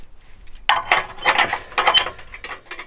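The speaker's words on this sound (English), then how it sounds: "pull the pin on our Blue Ox tow bar, line that up with our universal brackets down here on the bottom" Metal clicks and clanks of a Blue Ox tow bar pin being pulled and the bar shifted into line with bottom brackets on a Jeep Wrangler, a short cluster of close, sharp ratcheting knocks.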